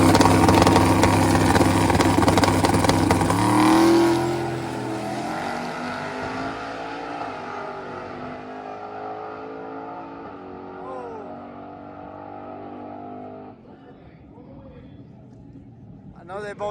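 Race cars accelerate hard off the line on a drag strip during race week, a loud, raw engine roar that swells and then recedes into the distance, fading to a distant drone, while a person talks over it.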